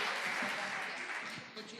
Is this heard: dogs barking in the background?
no